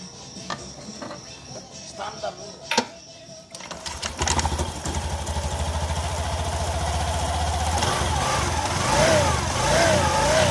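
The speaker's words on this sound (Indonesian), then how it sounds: "terdengar bunyi nyiung ya teman saat gas motor mengikuti putaran gas" Honda Beat scooter engine revving up from idle with a fitted bearing seater that does not match, a steady mid-pitched drone with a rising whine that follows the throttle, close and continuous after a few faint clicks.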